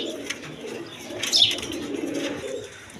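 Kaldom pigeons, including an Indian Nazrana Kaldom pair kept for sale, coo softly in low rolling phrases over a steady background hum, with a brief brighter chirp near the middle.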